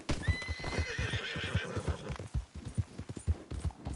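A horse in Red Dead Redemption trots with steady close clip-clop hoofbeats, and a neigh rings out near the start.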